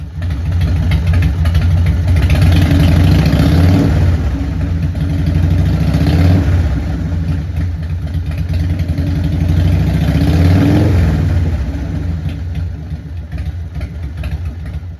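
A Harley-Davidson Fatboy motorcycle with a repaired CV carburetor idles loud and close, a steady low throbbing engine note with gentle swells, running alone without voices.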